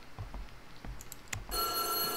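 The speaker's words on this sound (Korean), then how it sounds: "전화다." In the horror video game White Day, a telephone starts ringing with a steady, bright electronic trill after a few soft taps. The ring is close and clear, with no talk over it.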